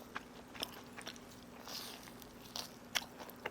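Biting into crispy cheese-loaded fried chicken outdoors in a yard gives close, crackling crunches and chewing, several sharp bites scattered over a low steady hum, with no talking.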